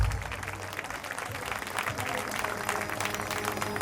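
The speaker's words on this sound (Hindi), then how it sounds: "तो एक बार जॉन्टी भाई के लिए जोरदार तालियां होनी चाहिए" A crowd at a live show applauds loudly with dense, continuous clapping, steady and close throughout, with some voices mixed into the noise.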